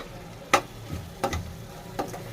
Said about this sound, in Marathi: आता याच्यामध्ये मी सात ते आठ कडीपत्त्याची पाने घेतलेले आहेत ते घालून घेते